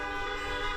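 Car horns blare in a sustained, loud, overlapping tone outside a hospital as drivers honk in support of staff, a dense steady chorus with no pauses.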